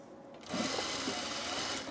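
A domestic sewing machine starts up and runs steadily, back stitching along a seam on an Ascot tunic, a close, continuous whirring hum after a brief quiet start.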